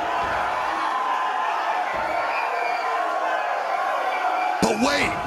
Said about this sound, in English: The crowd can't get enough of the carnage